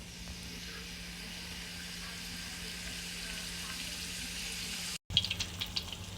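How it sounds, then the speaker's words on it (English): Egg rolls dropped into hot grease give a steady, broadband frying hiss that holds for several seconds, then cuts out briefly before returning with a few sharper crackles and pops near the end. "we're going to drop it right on in the grease"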